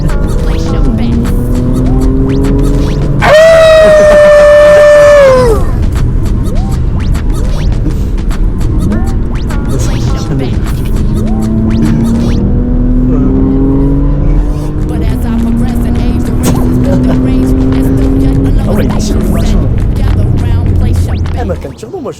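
A Porsche Macan Techart with 450 horsepower pulls away on snow, its engine rising loudly through gears with a sharp whine and scrabbling tires, while people talk over it.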